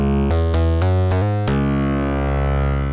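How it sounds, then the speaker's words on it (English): A buzzy, harmonically rich modular synthesizer tone, sine and sawtooth waves through a Pittsburgh Modular Double Helix wavefolder, with a few quick stepped pitch changes, then a long sustained drone, loud and steady throughout. "sine wave from here, sawtooth from here, going through the wave shaper"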